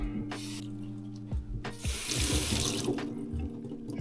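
Halved leeks have their layers rinsed under a running kitchen tap, giving a steady splashing gush of water into a sink with occasional knocks and shifts as the vegetable is handled, heard alone.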